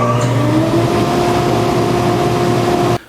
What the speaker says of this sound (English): This is our baseline at 10 foot from the dust collector. No modifications at this point